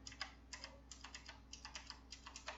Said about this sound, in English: This is mechanical blue switches, so it is clicky